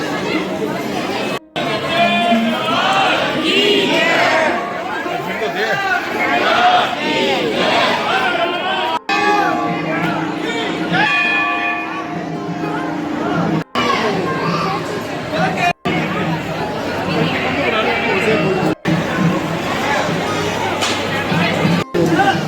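A dense crowd of devotees at the Kaila Devi temple in Karauli fills the space with loud continuous chatter, shouting and children's voices, with chanting-like calls rising over the babble throughout.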